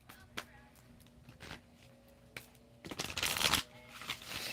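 Playing cards riffle-shuffled at close range, a few soft taps first, then one bright burst of flicking cards near the end, with quiet room noise throughout.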